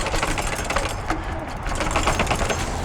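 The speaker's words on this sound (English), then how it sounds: "Bombing down those stairs right there" Mokwheel Obsidian ST commuter e-bike bombing down a flight of stairs, its suspension and frame rattling in a continuous dense clatter with quick jolts throughout, loud and close.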